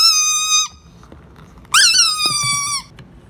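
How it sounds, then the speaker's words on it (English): High, whistling squeaks in Super Mario Odyssey: a steady squeal, then after a short gap a louder one that swoops up and holds, loud and alone with no talking. "What if we squeak so loud that he dies?"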